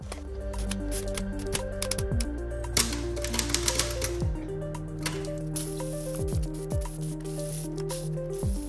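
Rapid mechanical clacking and tapping of a typewriter mechanism, steady and close, with occasional sliding rubs and no talking.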